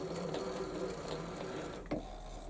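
A threading die being wound by hand onto a pin on a lathe, turned from a winding handle at the back of the headstock: a steady faint mechanical whir with one sharp click near the end.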